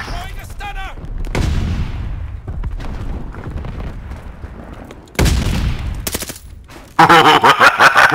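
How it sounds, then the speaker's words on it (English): Grenade blasts and rapid gunfire erupt in the shooter game Vanguard, loud booming bursts and crackling shots stacked in dense waves, with a sharp heavy explosion near the end. "Throwing grenades!"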